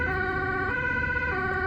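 A Dutch ambulance siren wails steadily and close by, its two-tone pitch switching back and forth over a low rumble of heavy rush-hour traffic.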